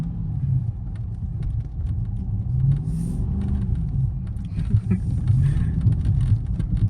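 Dodge Charger driven with no traction while drifting in snow, a low continuous engine rumble with tire and wind noise, steady and close throughout.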